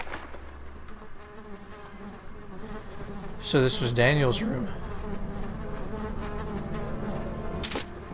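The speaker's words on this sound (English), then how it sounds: "Why are all these flies buzzing around me?" Flies buzz steadily in a room in the video game Amnesia: The Dark Descent, a droning insect hum throughout while someone briefly speaks partway through.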